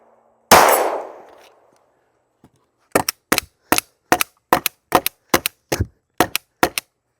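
Gunshots strike a wooden target block: one loud blast with a long decaying tail, then after a pause a rapid run of about eleven sharp, evenly spaced cracks, close and loud with no voices.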